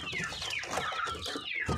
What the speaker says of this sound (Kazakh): Балапандар